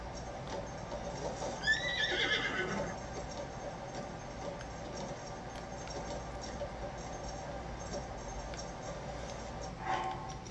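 A horse in Zelda: Tears of the Kingdom gives a short, quiet whinny early on and another brief one near the end, with soft hoof clatter and faint game ambience between.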